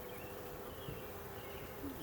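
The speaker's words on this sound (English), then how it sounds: "I see your bees." Steady, continuous buzzing of many BeeWeaver bees close by during a queen install, a dense droning hum that holds level throughout with no talking.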